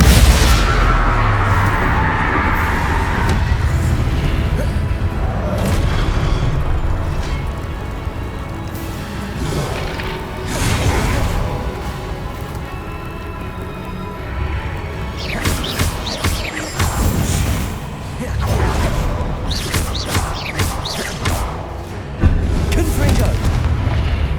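Heavy booming blasts and crashing impacts from spellcasting in the video game Hogwarts Legacy, loud and repeated in clusters over a rumbling background.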